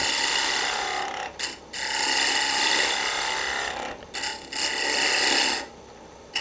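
A woodturning tool cuts into spinning wood with a loud, continuous rasping chatter from tool vibration that stops briefly a few times before resuming.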